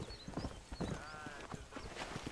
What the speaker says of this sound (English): you can be hundreds of miles away from your horse, and all you do is whistle, and it'll just mysteriously appear right there and come running to you